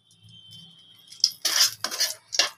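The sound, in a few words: frying dried red chilies in oil, stirring in pan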